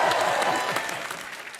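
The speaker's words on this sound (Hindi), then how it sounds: "आपकी तालियों के बीच इनवाइट करना चाहूंगा मिस्टर जय भानुशाली को।" Studio audience on a televised comedy show applauds a guest's entrance, a dense, loud wash of clapping that holds steady and then eases slightly.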